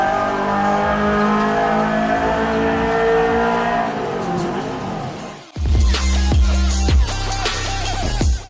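A Subaru rally car in Forza Horizon 3 revs and drives, its steady engine drone rising and falling before a sharp cut, then returning with harsher, louder gravelly engine noise and tyre sounds.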